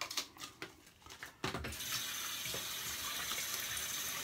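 Tap water runs steadily into a sink as shaving lather is rinsed off the face after a shave with an ATT S2 razor, starting with a few splashes and handling sounds before settling into a continuous close stream.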